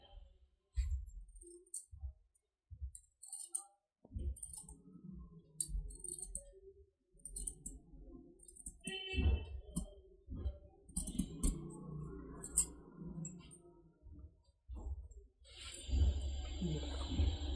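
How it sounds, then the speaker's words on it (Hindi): Scissors cutting the fabric neckline of a kurti front panel at home, with a series of close, sharp snips and crisp clicks in irregular bursts, separated by quiet pauses and followed by some rustling of cloth. "ये अभी आगे का पल्ला हम काट रहे हैं, ठीक। इसके गले को भी ऐसे काट देंगे।"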